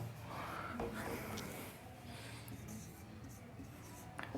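A marker squeaks and scratches across a board as a word is written out in large letters during a biology class, close and fairly faint, with a few breaths and small sniffs.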